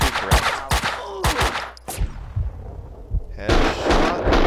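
Gunfire in the action video game Max Payne 2, a rapid series of sharp shots and thuds in a firefight, with a brief lull and then a dense burst of shooting near the end.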